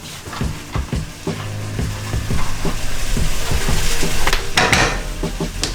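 Chopped green onion sizzles in a hot frying pan, and a utensil stirs and scrapes through it. The frying hiss builds steadily under a string of clattering knocks against the pan.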